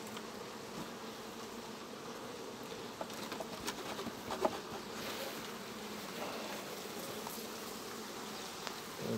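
Honeybees swarm around an opened beehive during a honey harvest, a dense steady buzz filling the air at close range, with faint handling knocks of the frames.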